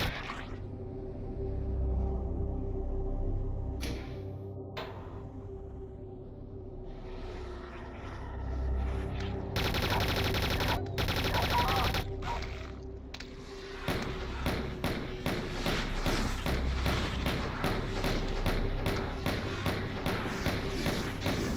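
Gunfire in the video game Silent Hill Doom: a dense stretch of rapid, punchy shots and thuds fires in a steady rhythm over a droning game soundscape, with a couple of brief loud bursts before it.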